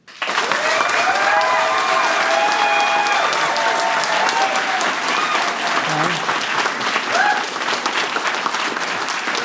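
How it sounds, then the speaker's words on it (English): A crowd at a live debate event bursts into sustained applause with some cheering and shouts, loud and dense for nearly ten seconds, voices calling out over the clapping. "If you think the pro side won the debate, round of applause."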